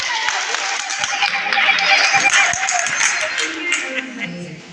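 A church congregation claps along together at a Sunday service, a dense, steady patter of many hands filling the room for several seconds, with some voices mixed in.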